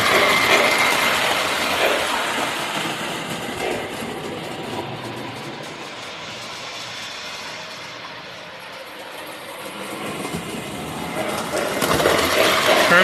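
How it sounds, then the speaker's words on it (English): A Lionel 726 model steam engine runs along its track with a fast, whirring mechanical clatter that swells, dips and swells again, a voice talking intermittently over it. "it's neat to see the rods running on the steam engines as they're running down the track"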